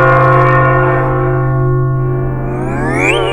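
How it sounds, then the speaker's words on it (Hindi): A bell rings loudly and close, one sustained resonant tone with rich overtones humming steadily and slowly fading, with a brief rising shimmer near the end and no talk. "बज गई घंटी।"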